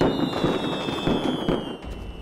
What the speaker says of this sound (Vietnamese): để hạ nhân đốt pháo ăn mừng, còn đốt tới trời sáng cho thật náo nhiệt